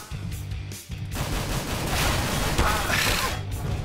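Pistol gunshots in Counter-Strike: Global Offensive, a quick run of sharp, close shots mixed with mechanical clicks, set over a low droning game background.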